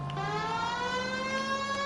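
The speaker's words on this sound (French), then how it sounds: "on peut même activer la sirène." A police vehicle siren from the video game L.A. Noire wails loud and close, a steady rising tone with bright stacked harmonics that holds without pause and stands alone with no voices.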